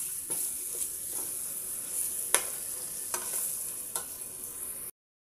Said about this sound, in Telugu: దీన్ని కూడా ఒకసారి బాగా కలబెట్టేసుకోండి.